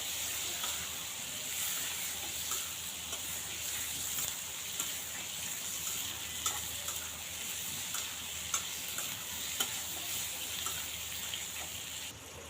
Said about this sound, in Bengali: পেঁয়াজগুলো টুকরো করে কেটেছি একদম জড়ি করে না টুকরো টুকরো করে কেটে ভালো করে কষিয়ে নেব আলুর সাথে